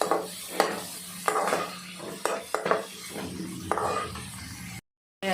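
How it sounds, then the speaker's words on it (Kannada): Green chillies frying and being stirred in a pan, with repeated scraping and clinking strokes over a steady low sizzle, then a brief silent gap near the end. "ಇಷ್ಟು ಹಸಿಮೆಣಸಿನ್ಕಾಯಿ ಹಾಕ್ಕೊಂಡು ಫ್ರೈ ಮಾಡ್ಕೊಳ್ಳಿ."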